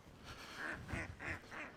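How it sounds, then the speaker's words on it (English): Ducks quack faintly in the distance, four evenly spaced nasal calls in a quick rhythmic run against a soft outdoor background, with no talking. "Listen to these ducks."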